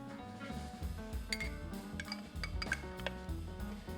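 Metal spoon clinking against a cupcake tin while scooping store-bought Rao's homemade pizza sauce onto small deep-dish pizzas, with light scrapes and taps repeating over a low background hum.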